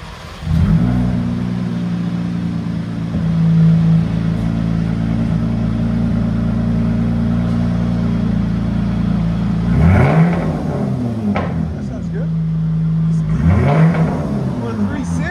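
A 2023 Jeep Grand Cherokee 3.6L V6 with its resonators removed idles with a deep, steady exhaust drone, then revs up sharply twice near the end, the exhaust rising and falling in pitch.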